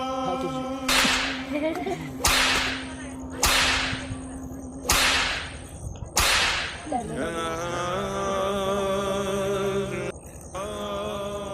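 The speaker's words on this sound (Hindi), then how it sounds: "मार कोड़ा" In a Hindi film scene, a whip lashes five times in a steady rhythm, each crack sharp and loud, followed by sustained wailing or dramatic tones.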